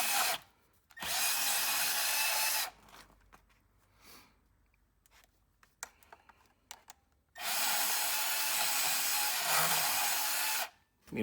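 Bandsaw cutting the top off an HVAC blower motor capacitor, two loud sustained whining cuts separated by a quieter stretch of clicks and handling sounds.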